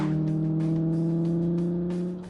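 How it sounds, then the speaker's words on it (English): A classic thoroughbred car's engine runs steadily, loud and close, with a smooth, creamy drone of strong low harmonics that holds even for over two seconds before dipping slightly at the end; no voices. "This is one of the greatest engines ever made."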